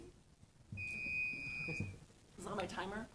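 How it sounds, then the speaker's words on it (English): A timer beeps with a steady electronic tone lasting about a second at a public meeting, under and between people speaking. "is that my timer?"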